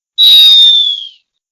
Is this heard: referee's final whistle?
yes